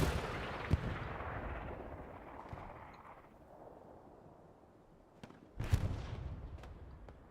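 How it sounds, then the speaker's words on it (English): Artillery fire rains down in Hell Let Loose on Omaha Beach, with distant rumbling blasts and a few sharp, louder impacts near the end against a low, steady battlefield background. "The artillery's coming down in here now."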